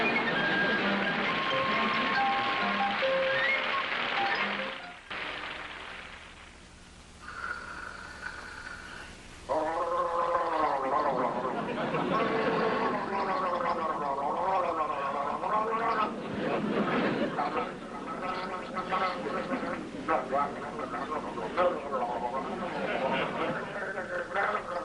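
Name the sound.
person gargling loudly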